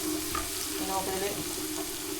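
Small chopped pieces of chicken, fried earlier, sizzle in a pan alongside soy sauce and coriander leaves, giving a steady, moderately loud frying hiss with faint stirring clicks. No voices are heard.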